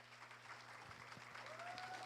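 An audience welcomes a fashion designer at a university styling class with a burst of clapping, moderately dense and somewhat distant, continuing steadily for a couple of seconds.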